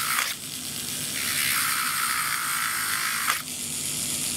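A rotary tool fitted with a diamond bit grinds into Sculpey polymer clay, a steady high whine with two short breaks where the bit lifts off, loud and close with no talking.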